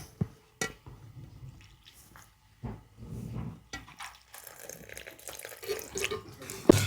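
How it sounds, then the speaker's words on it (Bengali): Water runs from a kitchen tap into a sink, splashing and trickling near and steady for several seconds, with handling clatter around it, while flour dough for lachha paratha is being mixed. "তো এখন আমি পরিমাণ মতো জল দিয়ে দিয়ে একটা নরম ডো বানিয়ে নেব।"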